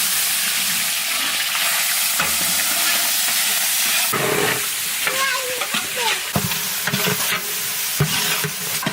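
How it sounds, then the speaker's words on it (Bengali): Onions fry in hot mustard oil with whole spices and bay leaf, a loud continuous sizzle and hiss broken by repeated stirring scrapes and clatters of a spoon against the pan. "পেঁয়াজ আমাদের সুন্দর ভাজা হয়ে গেছে"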